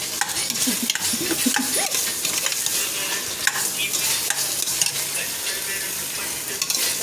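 Cumin seeds fry in oil in a pan for vegetable biryani, giving a loud, continuous sizzle and crackle while a utensil stirs and scrapes through them close up, with no talk.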